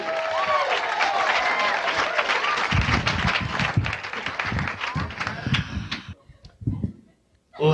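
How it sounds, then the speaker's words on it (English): A comedy-show audience in Sacramento claps and cheers loudly for comedian Carlos Alazraqui as he is introduced. The thick applause thins out near the end, then drops to near silence before a brief final burst. "Big round of applause, Carlos"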